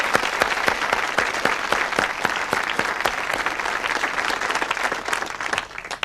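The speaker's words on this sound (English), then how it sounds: "Let's have some applause for the suspects." Studio audience applause for the suspects on a 1974 British TV panel game show, steady dense clapping throughout, loud and close, with no talk over it.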